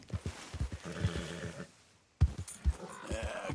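A horse in the Red Dead Redemption 2 video game whinnies twice in short bursts, near and fairly loud, with hoof clops and low rumbles mixed in and a brief silent gap between the calls.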